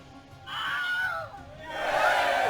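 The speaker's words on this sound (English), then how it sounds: "You hear the crowd go wild." A crowd roars wildly as a tabletop game sound effect, a surging cheer that dips briefly and then swells louder again.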